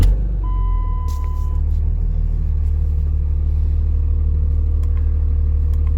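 A diesel truck engine, brought in for diagnosis, runs close by with a deep, steady low rumble and a loud idle. Faint clicks and a short high tone sit briefly over it near the start.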